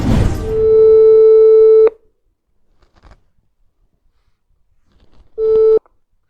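Outgoing phone call ringback tone on a line, two long steady electronic tones separated by a few seconds of near silence, clear and close.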